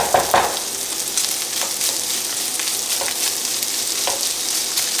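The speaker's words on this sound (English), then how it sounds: "That's starting to sizzle up real nice." Steady sizzling of onions and garlic frying in a hot pan, a continuous bright crackle with occasional small pops, fairly close and even throughout.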